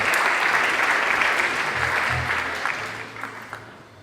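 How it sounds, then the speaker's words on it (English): Audience applause at a school winter instrumental concert, steady dense clapping from a large crowd that gradually thins and fades out. "so huge round of applause"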